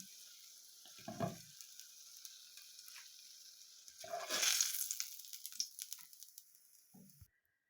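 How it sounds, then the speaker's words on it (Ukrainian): Steady sizzling of zucchini frying in a pan, with a few clanks of a utensil and a louder burst of crackling partway through. "І таким самим аналогічним порядком підсмажую інші."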